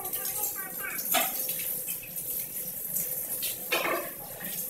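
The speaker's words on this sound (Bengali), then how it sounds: "দেখো ভালো হচ্ছে, ভালো রান্না হবে, তাই সব কড়া মাজা হচ্ছে।" A kadai wok is scrubbed and rinsed under running water, with splashing and clanking of metal on metal while people talk over the washing.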